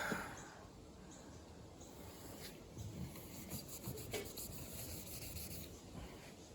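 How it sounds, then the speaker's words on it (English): A Scotch-Brite pad rubbing across wet clear coat makes a continuous, close scuffing and rasping sound that holds steady at a moderate level throughout. "I've just got the Scotch-Brite onto it, and it's not doing much at all"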